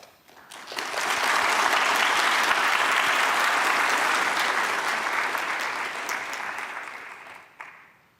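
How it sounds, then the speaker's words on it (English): Audience at a Kyushu University fall commencement ceremony applauds, sustained dense clapping from a large crowd that swells quickly, holds steady for several seconds, then tapers off. "Please give applause."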